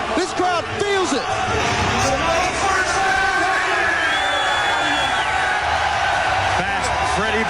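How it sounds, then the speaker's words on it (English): Roaring crowd at a New York football stadium during a 2001 XFL game between the Orlando Rage and NY/NJ Hitmen, a loud, dense wall of cheering and whoops that continues without a break, with a commentator talking over it. "And this crowd, listen to this crowd, man. This crowd feels it."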